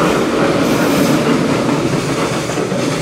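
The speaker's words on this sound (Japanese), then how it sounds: "貨物列車、" A freight train rolls past close by at a Japanese rail line near Imagawa Station, a loud continuous roar of wheels and rumbling wagons with rhythmic clatter.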